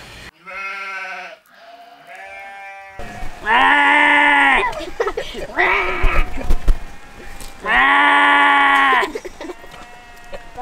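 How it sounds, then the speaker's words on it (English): Harsh, drawn-out sheep bleats sound loud and close, with a shorter cry first and then three long angry bleats, and brief talk between them. "That sounds like an angry sheep."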